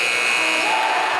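A basketball arena buzzer sounds at the end of the half, one loud, steady electronic drone held for the whole moment with no break.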